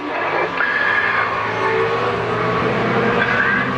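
Race cars circle the Croft circuit during a saloon and sports car championship meeting, their engines forming a continuous loud roar with rising and falling whines as they pass close by.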